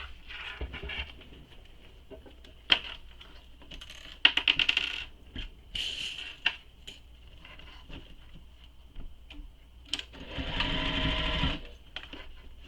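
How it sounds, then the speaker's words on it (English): A sewing machine stitches the side seams of a pocket on a fabric shoulder bag, running in short whirring bursts with a longer steady run near the end. Small clicks and handling noises come between the bursts, fairly close, with no voices. "So we're just sewing the sides right now."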